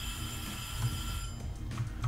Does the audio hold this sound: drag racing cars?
no